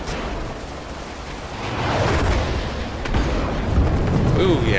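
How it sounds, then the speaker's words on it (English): Missile blasts in the Star Citizen space combat game Arena Commander roar as a dense, loud rumble that swells around the midpoint and again near the end, with no pause between booms. "Let's get him a missile."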